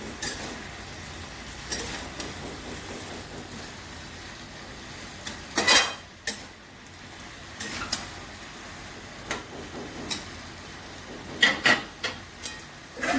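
Pumpkin, radish, aubergine, potato and green chillies being mixed together in a pan, with soft sizzling underneath and a few sharp utensil scrapes and clanks against the metal at irregular intervals.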